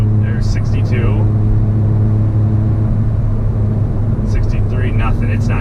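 Car with a tuned DSG gearbox held in a gear in sport mode while accelerating, giving a steady, loud, continuous engine drone and road rumble from inside the cabin with no audible shift.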